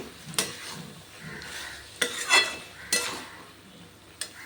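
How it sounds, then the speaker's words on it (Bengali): A spoon or spatula gently turns cabbage curry flecked with fresh coriander leaves in a pan, giving a few soft scraping strokes and light clinks over a quiet low sizzle. "এবার একটু হালকা হাতে নাড়াচাড়া করে নিচ্ছি"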